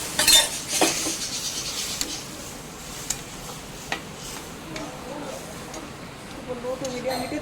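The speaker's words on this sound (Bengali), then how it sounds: "এবার সিদ্ধ করে রাখা কাঁঠালের বীজটা এখানে দিয়ে দিচ্ছি।" Boiled jackfruit seeds go into a pan for a curry and are stirred, with sparse metallic clinks of a spoon against the pan and faint soft sizzling, quiet and close.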